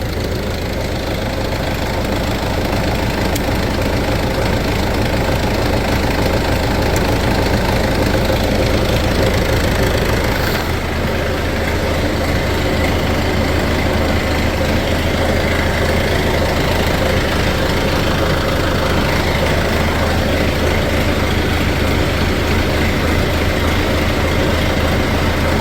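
A small tractor engine runs steadily at idle, loud and close, with a continuous low rumble and slight knocking texture throughout, no voices over it.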